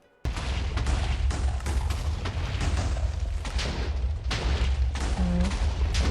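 Wither explosions in Minecraft, a dense barrage of loud, overlapping booms and blasts that erupt suddenly after a brief quiet moment and keep rumbling without pause, with no talk.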